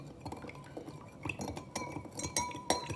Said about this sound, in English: We're gonna add another spoon.